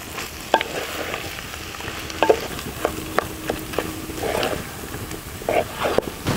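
Spiced mashed potato masala being mixed in a pan for a ragi masala dosa filling, with repeated clacks and scrapes of a spoon against the pan over a low sizzle, close by and irregular.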